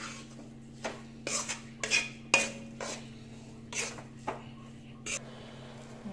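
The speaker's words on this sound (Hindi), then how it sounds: "इसको हम लगातार हिलाते रहेंगे" A spoon repeatedly scrapes and clinks against a pan while sugar is heated and stirred, irregular metallic strokes every half second or so over a steady low hum, with faint talk in the background.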